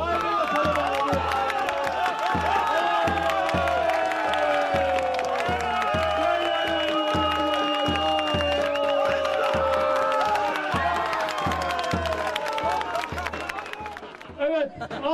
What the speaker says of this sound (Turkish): Bir alkış yine alalım. Kuvvetli olsun efendim.